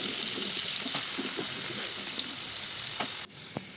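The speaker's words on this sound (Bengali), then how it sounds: "দিয়ে ভালোভাবে আলুটিকে ভেজে নেব" Potatoes fry in a kadai with garam masala and cardamom, giving a steady close hiss and sizzle throughout, with a few light utensil clinks and a brief dip near the end.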